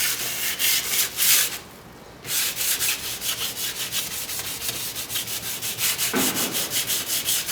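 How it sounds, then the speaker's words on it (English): Steady back-and-forth rubbing of an abrasive sanding pad along a steel sword blade and its fuller, quick rhythmic strokes with a brief pause, close and continuous. "Now with a sanding pad, the advantage really is that you'll have the pad going into your fuller."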